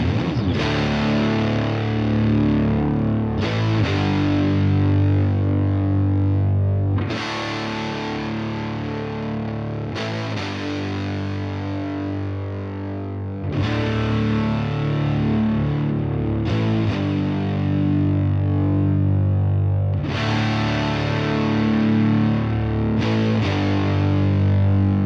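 Two doubled, heavily distorted electric guitars miked with an SM57 and a Royer 121 pound out thick sustained power chords in loud repeating phrases, with brief muted breaks between chord changes and no voices.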